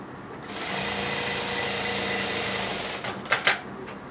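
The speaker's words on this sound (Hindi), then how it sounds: "सीधे सिलाई मार देंगे।" Sewing machine running a steady, continuous stitch on a kurti neckline for about two and a half seconds, then stopping, followed by a few brief clicks and handling sounds of the fabric.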